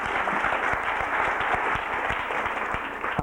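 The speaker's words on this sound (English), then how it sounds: "Yeah, go ahead, you can clap for her." An audience applauds steadily for Mrs. Clinton, head of the health care task force, with dense, sustained clapping that holds at an even level throughout.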